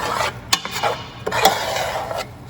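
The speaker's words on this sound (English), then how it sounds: "you're gonna have to stir this thing constantly" Spoon scraping and clinking against a pot while a Cajun roux is stirred constantly, giving irregular close scrapes and a few sharper taps over a low background hiss.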